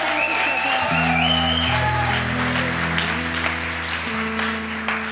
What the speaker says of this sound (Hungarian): Még egy nagy tapsot neki